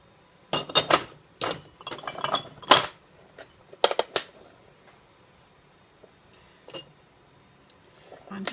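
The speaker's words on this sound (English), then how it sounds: "I'm also going to add onions to all these jars." A regular large tablespoon clinks against glass canning jars while onions are spooned in for pressure-canned dry beans, several sharp close taps in small clusters with pauses between.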